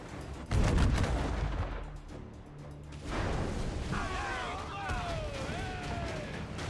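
Ship cannons firing during a naval battle in Assassin's Creed Black Flag, with heavy booming blasts and whooshing shots, a loud burst early then rolling gunfire, under shouted crew commands and musical tones.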